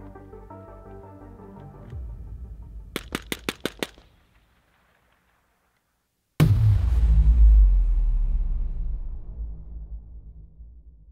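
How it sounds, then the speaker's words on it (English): Suppressed rifle with a PWS BDE suppressor firing a quick series of about five sharp cracks, followed by a silence and then a loud, sustained boom that slowly decays. "It's raw audio, and this is suppressed rounds."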